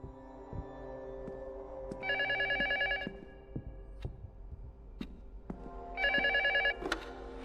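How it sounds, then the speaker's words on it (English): A telephone rings in two separate bursts of bright electronic trilling, each about a second long, with a pause between them. Scattered knocks and thumps sound throughout. "The phone keeps ringing."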